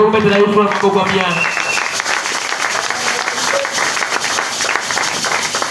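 A church congregation bursts into sustained applause and cheering for Jesus during a Sunday sermon, a dense, loud wash of clapping that fills the room, with a voice singing or calling out at the start.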